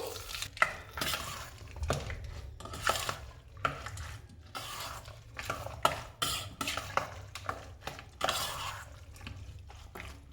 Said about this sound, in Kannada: ಒಗ್ಗರಣೆ ಹಾಕ್ಬಿಟ್ಟು ಮೊಸರನ್ನದೊಳಗಡೆ ಹಾಕಿ ನೀಟಾಗಿ ಎಲ್ಲ ಮಿಕ್ಸ್ ಮಾಡ್ಕೋಬೇಕು